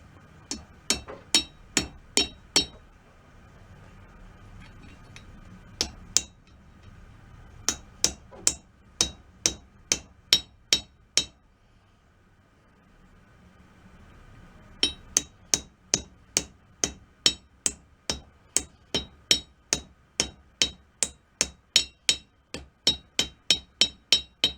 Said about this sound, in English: I just flatten this on this anvil here.